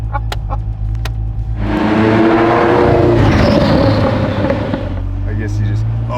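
A Ferrari F40 engine roars loudly up close for several seconds inside the cabin, rising and falling over a constant low rumble.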